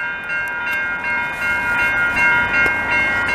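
A long CP freight train rolls through the Beaurepaire level crossing in Montreal, its horn sounding in sustained, fairly close blasts over the steady rumble of the passing cars.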